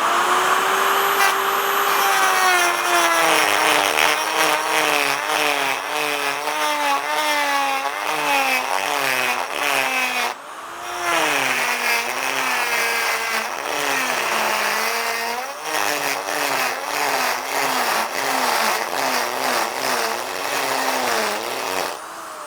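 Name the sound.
small carbide burr ball cutter grinding out a weld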